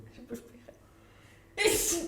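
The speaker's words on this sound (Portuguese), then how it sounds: "Não julguem um espirro." Muffled talk and breaths lead into one sharp, loud sneeze burst near the end.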